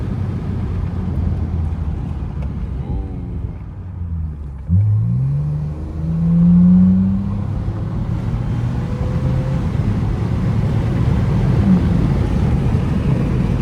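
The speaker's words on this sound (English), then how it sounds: "So yes, we are driving our daily," A Lexus ES350 driving along, with a steady low engine and road rumble that swells briefly as it accelerates midway, loud and close from inside the car.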